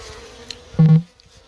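Honeybees swarm around their nest as honey is taken from it, a close, brief loud buzz of a single bee swelling past amid a faint background hum.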